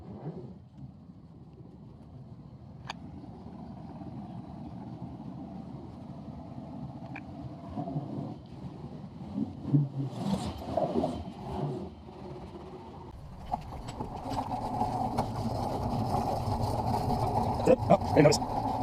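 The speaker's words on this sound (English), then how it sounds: "My dad's pulling the RX-7 around. It's gonna get it put in the trailer" A Mazda RX-7 is driven slowly onto a trailer at a shop, its low engine rumble steady at first, then growing louder and rougher near the end, with faint muffled voices in the background.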